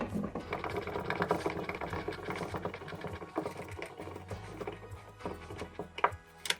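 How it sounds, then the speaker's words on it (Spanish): A screw is driven while an IKEA Kallax shelf is assembled, a close, rapid whirring and clicking mechanical chatter that runs steadily with small irregular knocks. "empujamos hacia atrás y atornillamos"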